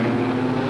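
A propeller aircraft engine at full throttle during a wave-off from a carrier landing approach, a steady loud droning roar with a strong low hum, continuous and alone.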